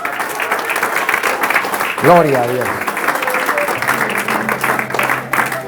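Church audience applauding for Jesus, steady clapping heard throughout while a voice speaks over it and a brief wavering exclamation rises in the middle.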